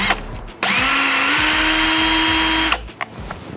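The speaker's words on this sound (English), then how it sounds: "put the drill in reverse and kind of spin it on the center to make like a center punch type thing" A power drill spins in reverse to mark a centering spot during a Harley-Davidson Street Glide Razor Pack install, giving one steady, loud whine that runs for about two seconds and then cuts off, with no talking.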